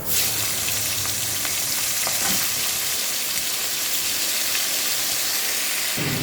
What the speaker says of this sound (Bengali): কাঁকড়াগুলো আমি তেলের মধ্যে দিয়ে দিয়েছি।